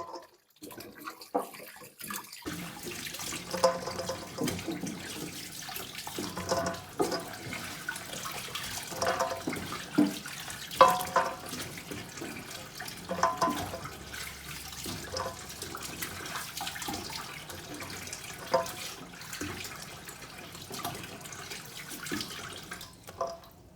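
Water runs steadily from a tap over fresh snake fruit (salak) rinsed in a sink for making pickles, with splashing and dripping that continue throughout and no talk over it.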